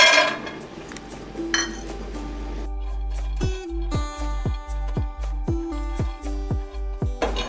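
Peanuts roast in a pan over a low gas flame, clattering and scraping against the metal as they are stirred; a run of close, ringing clinks and rattles comes in quick, uneven bursts.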